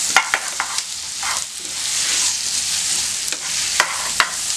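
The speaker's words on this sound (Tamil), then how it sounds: "இதை நல்லா பொன் வறுவலாக வறுத்துக்கணுங்க. நல்லா பொரிய விட்டுறணும் வெங்காயத்தை." Sliced onions frying in butter for a paneer butter masala, a bright, close sizzle broken by sharp spoon taps and scrapes against the pan at the start and end.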